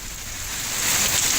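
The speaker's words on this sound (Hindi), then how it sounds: "ये तस्वीरें हम आपको दिखा रहे हैं पूर्णिया की, जहां ओलावृष्टि हुई है" Hail pours down during a hailstorm in Purnia, Bihar, making a loud, steady, dense hiss and patter of stones striking surfaces, with no voices.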